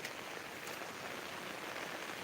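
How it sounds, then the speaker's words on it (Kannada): Heavy rain pours down in a steady, dense wash of hiss that stays even and loud throughout, with no voices or other sounds rising above it. "ಮಳೆ ಜೋರು ಬರ್ತಾ ಉಂಟು, ಮಳೆ ಜೋರಾಗಿ"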